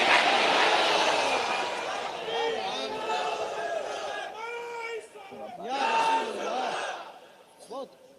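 Rally crowd shouting slogans in unison, loud overlapping voices rising and falling in repeated bursts, with a short final shout near the end.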